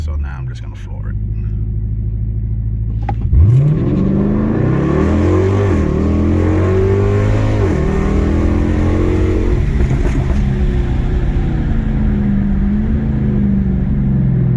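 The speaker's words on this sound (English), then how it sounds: "So now I'm just gonna floor it." Car with a stock airbox idling, then floored at full throttle: the engine note climbs sharply, runs through several rising gear pulls with brief dips between them, and stays loud and close throughout.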